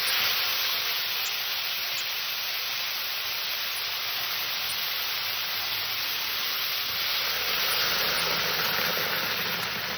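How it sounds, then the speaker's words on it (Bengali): Water added to a simmering ridge gourd and potato curry with puti fish hisses and sizzles in the pan, a steady loud spray-like hiss lasting the whole time with no talk. "তরকারিটা যখন কষা হয়ে গেছে, আমি এখানে এবার জল দিয়ে দেবো।"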